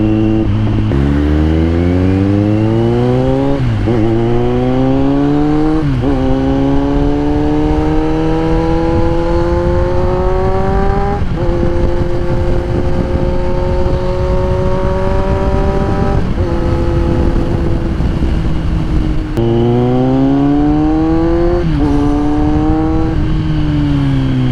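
Engine of a Yamaha motorcycle or scooter heard while riding through traffic, revving up and shifting gears repeatedly in rising sweeps, loud and close, with no talk.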